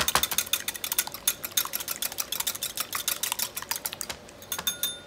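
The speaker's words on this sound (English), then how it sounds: "You want to whisk this." Egg yolks whisked briskly in a bowl for spaghetti carbonara, a rapid run of sharp clicking strokes against the side, close and steady with no talk.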